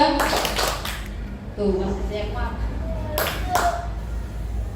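Children in an Indonesian elementary classroom clap twice on cue, sharp hand claps near the start and again around three seconds, with a teacher's voice speaking between them.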